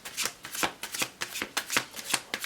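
A deck of tarot cards is shuffled by hand in a quiet room, producing a steady run of crisp riffling and slapping bursts, each about every quarter second, close and clear with no voices.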